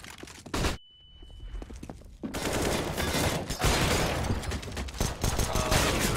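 Sniper and rifle gunfire in Counter-Strike: a sharp shot, a brief near-silent gap with a thin whine, then a dense run of loud overlapping shots and impacts that continues steadily to the end.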